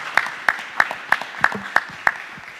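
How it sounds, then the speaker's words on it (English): A single, evenly paced round of clapping for a school team at a school board meeting, about seven crisp claps sounding close and moderately loud against a quiet room with no talk. "Give them a round of applause."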